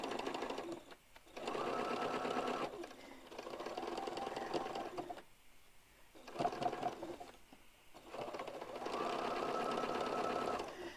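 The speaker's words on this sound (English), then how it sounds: "And now I'm going to stitch across this way." A sewing machine stitches quilt pieces together in several steady, whirring runs of a second or two each, separated by brief pauses, close and fairly loud with no speech.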